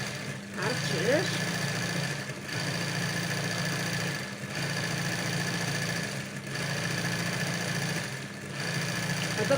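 A sewing machine stitches Tunisian embroidery with a steady mechanical hum that runs in long stretches, pausing briefly every couple of seconds, close and fairly loud throughout.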